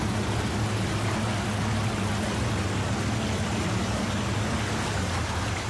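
A truck driving down a river in Spintires gives a steady, loud broadband wash of engine drone and rushing water, continuous and unbroken with no voices.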